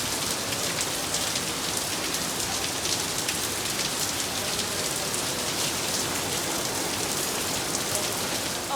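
Steady rain pours down in Surat, a dense hiss of drops striking surfaces that holds evenly at close range throughout, with no speech.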